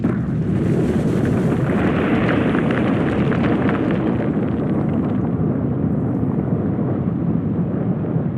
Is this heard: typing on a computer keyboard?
no